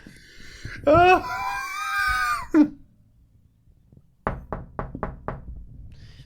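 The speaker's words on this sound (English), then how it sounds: "There's somebody at the door." Five quick, sharp knocks on a door sound close by, coming right after a wailing, screaming vocal sound, with quiet between them.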